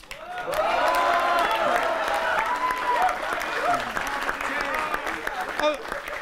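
An audience at a Holi comedy poetry gathering breaks into sustained applause that swells quickly and then holds, with a voice speaking faintly over the clapping.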